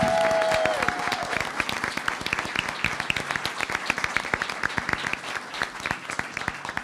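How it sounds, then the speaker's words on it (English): An audience at a school board of education meeting breaks into sustained applause, many hands clapping together in a dense, steady patter that eases slightly after the first second and continues throughout. "let's give them a big round of applause"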